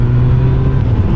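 A motorcycle engine holds a steady throttle through a bend on a road, a continuous loud drone with a low, even hum and no voice over it.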